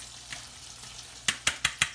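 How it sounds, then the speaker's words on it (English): Chopped onions dropped into melted butter in a pan over medium heat, giving a soft steady sizzle, then four sharp close scrapes or stirs near the end. "And you can dump the onions in there."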